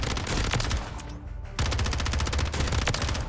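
HRM submachine gun firing in Call of Duty Warzone, loud continuous automatic bursts up close, a brief pause near the middle before the rapid fire resumes, no talk.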